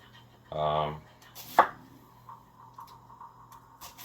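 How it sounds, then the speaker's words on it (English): A Dao Vua 210mm tall gyuto knife cuts through an onion in one quick stroke, a short crunchy slice ending in a sharp knock on the board, then faint small handling sounds in a quiet room. "It falls through straighter through the onion than the thicker knife."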